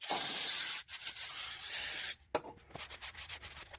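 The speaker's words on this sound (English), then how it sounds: "we'll fill it up with some brake clean, see what it'll do" Brake cleaner sprayed from an aerosol can into a Shindaiwa T242 weed whacker, two loud hissing bursts broken by a short pause, then quieter scattered dripping and handling noises.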